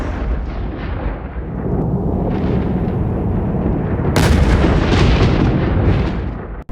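Lightning striking an airliner in flight at about 8,900 feet: a loud, sustained roaring buzz with a harsh blast-like surge partway through, dense and continuous without pause.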